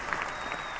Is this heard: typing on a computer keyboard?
no